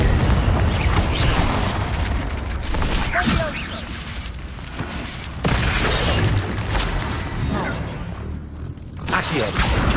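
Confringo blasting spells in Hogwarts Legacy going off as booming, crackling explosions with shattering debris, several loud bursts over a busy combat background, with a voice calling out spell names in between.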